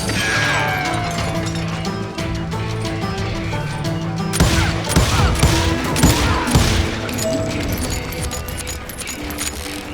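Bursts of gunfire from a Western-era first-person shooter video game, rapid repeated shots and heavy volleys growing denser midway, with ringing tones and music underneath.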